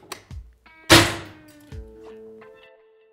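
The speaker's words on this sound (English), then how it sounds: "Now, let's shoot the ESS CDI Max mil rated sunglass." A projectile fired at ESS CDI Max military-rated sunglasses in an impact test strikes with one loud, sharp thunk. Softer knocks and a faint ringing tone follow in a quiet room.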